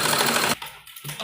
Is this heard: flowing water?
no